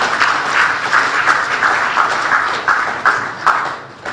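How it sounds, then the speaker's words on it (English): An audience in a hall claps for itself, a short steady round of applause with pulsing bursts that holds for about four seconds before tapering off, with no talking over it. "I thought we should clap for ourselves."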